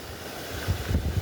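Floodwater rushing during a 2025 monsoon flood after heavy rain: a continuous, loud, rumbling wash with wind buffeting the microphone, swelling stronger in the second half.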